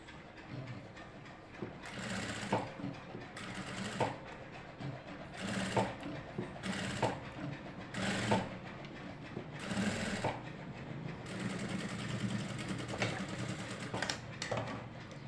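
A sewing machine stitches close along the folded margin edge of a readymade kurti, running in repeated rapid bursts separated by brief pauses, near and clear with no talk.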